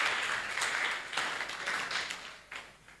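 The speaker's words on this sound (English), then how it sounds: "Let's give all of them a big round of applause." At a new-member networking breakfast, an audience gives the teams a round of applause: a soft, distant wash of many hands clapping that swells and dips for a few seconds with no voices over it.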